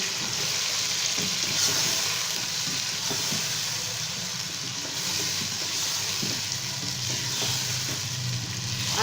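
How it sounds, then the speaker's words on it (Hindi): Spiced chicken for Lahori chicken pulao frying in a pot, a loud continuous sizzle with constant scraping and stirring throughout, no voices. "चिकन को 2 से 3 मिनट तक मज़ीद भूनेंगे।"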